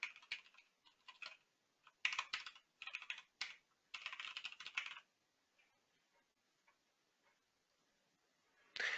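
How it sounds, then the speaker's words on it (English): Typing on a computer keyboard comes in quick, close bursts of clicky keystrokes, then a few scattered taps after a pause, with a last short burst at the end. "So I'll just type in some simple URL."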